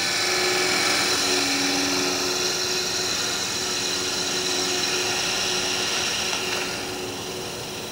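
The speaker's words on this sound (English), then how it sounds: "Take my skew chisel and surface the top area right here." A skew chisel surfacing the top of a small wooden toy figure spinning on a wood lathe: a steady, fairly loud whirring hum with a faint hiss of cutting, fading slightly toward the end.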